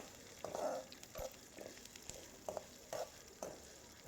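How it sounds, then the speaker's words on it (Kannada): Cumin seeds and fenugreek frying in a pan on low flame, a soft sizzle with intermittent stirring scrapes and small bursts, close but fairly quiet. "ಜೀರಿಗೆ ಮೆಂತ್ಯ ಎರಡೂ ಕೂಡ ನೀಟಾಗಿ ಫ್ರೈ ಮಾಡ್ಕೊತಾ ಇದ್ದೀನಿ"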